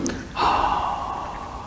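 One long, steady exhalation during a balancing breathing exercise, starting with a quick catch of breath and then flowing out smoothly for over a second, close and clear with no talking.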